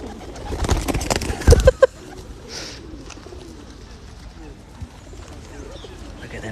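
A pigeon coos among parakeets in London, heard close under a person talking, with bursts of handling noise and rustling early on.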